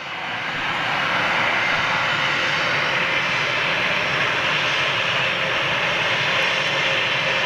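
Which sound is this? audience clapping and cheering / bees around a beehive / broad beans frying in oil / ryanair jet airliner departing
ryanair jet airliner departing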